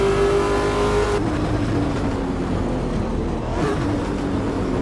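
A Ford GT's V8 engine revs loudly in the AMS2 racing video game, holding a steady high pitch and then surging again as the car accelerates, with no talk over it.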